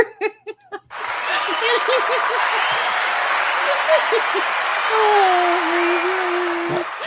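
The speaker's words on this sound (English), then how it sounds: "I like the applause better" An applause sound effect, preceded by a few short sharp bursts, then a sustained roar of clapping and crowd noise with laughter mixed in, steady and fairly loud throughout.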